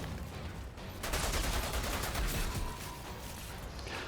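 Rapid automatic gunfire from shooting enemies in the video game Outriders, a sustained dense rattle that swells loudest midway, then eases into a steady battle wash without talk.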